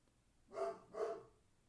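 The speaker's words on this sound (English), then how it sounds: "My dog in the background. I don't know what he's barking at." A pet dog barks twice somewhere in the background of a home podcast recording, two faint, well-spaced woofs with no talk over them.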